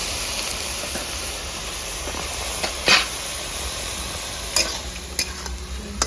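Spices fried with salt sizzle in a pan with a constant bright hiss, broken by a few scraping clicks and ticks from stirring.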